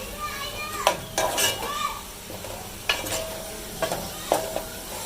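Onions fried to light brown in a pan for an aloo keema dish, with a soft sizzle under repeated scrapes and knocks of a spoon against the pan, close by.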